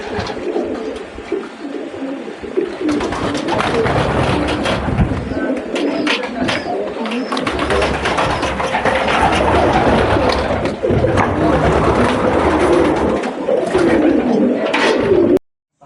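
Homing pigeons coo loudly and close by in a continuous, overlapping chorus of throaty calls that lasts about fifteen seconds before cutting off abruptly.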